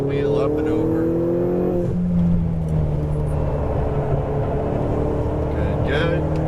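A Lamborghini Huracan Performante's engine drones through a track session at EXR Las Vegas, with pitch sliding between gears as the throttle eases and returns, and an instructor's voice can be heard over it.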